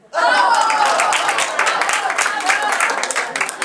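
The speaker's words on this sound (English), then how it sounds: "them a round of applause." Loud, dense audience applause bursts out at an improv comedy show and sustains steadily, a roaring wash of many hands clapping with some crowd cheering mixed in.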